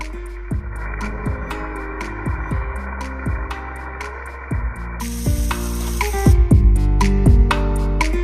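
Steak sizzles in a hot pan as it is flipped, a constant close frying hiss punctuated by regular clinks and scrapes of utensils against the pan, growing busier toward the end, no talking.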